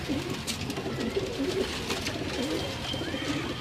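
Salara teddy pigeons coo in a loft, soft repeated throaty calls rising and falling over a steady background hum, close by and with no talking.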